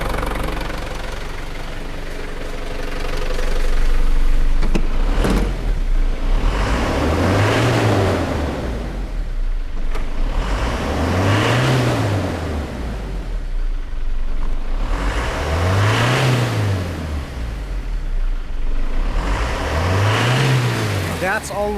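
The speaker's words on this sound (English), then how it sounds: "Alright, I'm just going to rev the car now." A Holden Isuzu Rodeo engine is revved four times at regular intervals, each rev rising and falling smoothly over a steady idle, close up and loud, with someone talking briefly early on.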